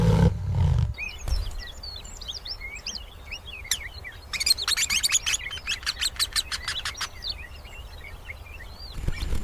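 Birds on the African savannah chirp and tweet in quick, lively bursts, with a run of rapid repeated calls in the middle, fairly close and clear over a quiet background.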